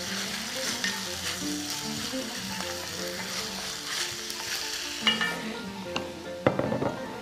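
Onions frying in a hot pan give a steady, dense sizzle, close and fairly loud, with a few sharper crackles and a clink near the end, and no voices.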